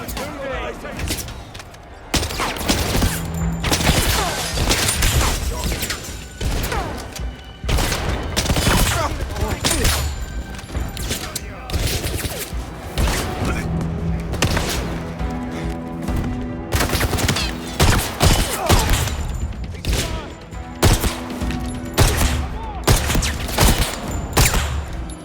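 Sustained gunfire in 007 First Light, with dense bursts of shots and rapid automatic fire running nearly nonstop and loud. Voices and other game sounds sit underneath.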